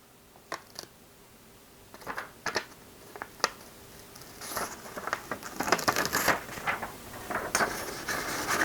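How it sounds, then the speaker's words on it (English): Transfer film being peeled off a stone coaster after DTF printing, giving scattered crackly, crinkling rips and soft scraping bursts that grow busier toward the end, close and fairly quiet with no talk. "Let's just see how this peels."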